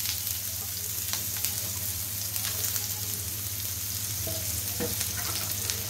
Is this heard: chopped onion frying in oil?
yes